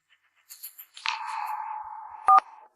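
A telephone emits electronic call tones in a quiet room: a few soft blips, then a sustained steady tone, broken near the end by a brief sharper beep.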